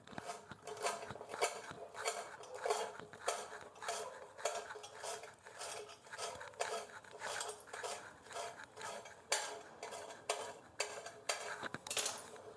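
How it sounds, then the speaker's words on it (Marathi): A knife finely chops fresh coriander for a quick onion-tomato chutney, giving a rapid, steady run of close, crisp taps against the board with no talking. "आता ही कोथिंबीर एवढी कट करून घेऊ"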